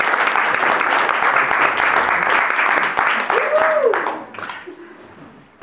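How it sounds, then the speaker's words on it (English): Audience applause at an art exhibition, a roomful of people clapping loudly and steadily before it tapers off, followed by a faint voice. "maybe we could just start by giving Jane a round of applause for a beautiful exhibition."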